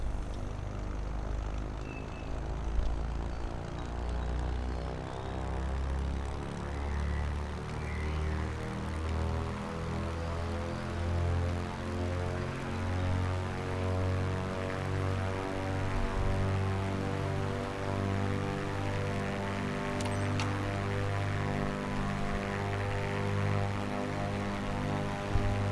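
Propeller aircraft throttling up to full power for takeoff in Microsoft Flight Simulator 2024, a loud, sustained engine roar whose pitch climbs steadily as the plane accelerates, heard close and alone without talk.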